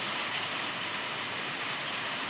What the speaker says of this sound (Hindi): चलिए बारिश हो रहा है